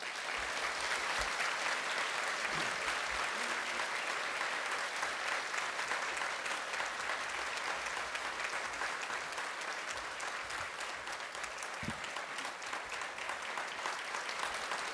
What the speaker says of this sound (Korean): 큰 환영의 박수, 격려의 박수 보내주시길 바랍니다